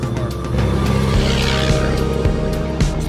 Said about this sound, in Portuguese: Na Serra de Rio Claro, caminhões passando